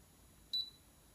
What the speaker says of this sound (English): And now it's going to beep.